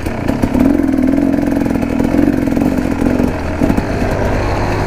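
A KTM 300 two-stroke enduro motorcycle engine at close range, loud and steady, with a buzzing drone that holds at a constant pitch as the bike rolls along on a relaxed downhill, then eases off near the end.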